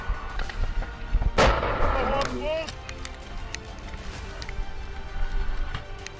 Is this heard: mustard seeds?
no